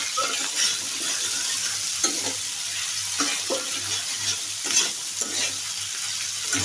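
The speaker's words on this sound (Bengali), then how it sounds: "এবার শিম দিচ্ছি, ভালো করে নেড়ে আর সামান্য পরিমাণে পরে লবণ দেবো" Beans are stirred as they fry in a pan of hot oil, giving a steady sizzle with scraping strokes from the spoon at intervals, close and continuous.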